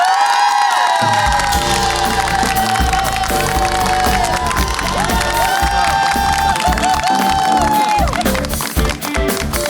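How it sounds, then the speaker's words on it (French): A studio audience at an evening comedy and politics talk show applauds and cheers for a guest, a dense, loud wash of clapping and shouts layered over band music. "Je vous demande d'applaudir bien fort mon invité de ce soir"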